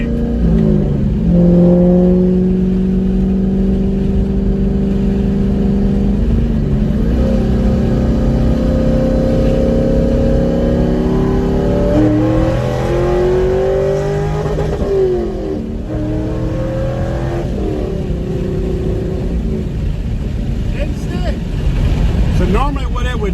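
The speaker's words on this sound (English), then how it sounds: "I'm gonna do a second gear pull and run the RPMs up" A Corvette engine climbs to high RPM in a second gear pull, loud and close, the pitch rising and falling through repeated revs and shifts.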